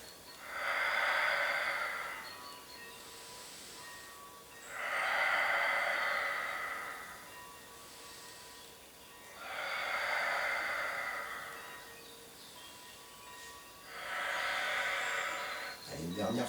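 Slow, deep breaths during a Pilates exercise, four long airy exhales spaced about four seconds apart with quieter inhales between, close and fairly soft.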